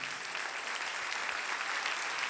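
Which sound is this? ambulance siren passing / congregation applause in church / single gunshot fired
congregation applause in church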